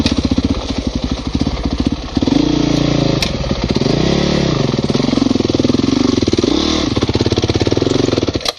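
A small motorbike engine revving hard as it climbs a slope, loud and close with a steady chugging pulse that rises and falls in pitch as the throttle surges, with no voices.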